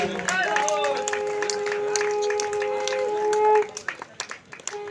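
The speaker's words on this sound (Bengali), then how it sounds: "সকলে করতালি দিয়ে বর্ণময় করে তুলুন আরো জোরে হাতালি চাই" A crowd claps during the flag hoisting at the Chakdaha Book Fair 2025 while a voice talks over it. The clapping is dense at first, then breaks into scattered claps after a few seconds.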